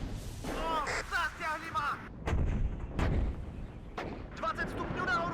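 Rocket artillery fires on mortar positions in the Cold War strategy game WARNO, with several heavy booming launches and blasts in close succession, mixed with radio chatter in another language.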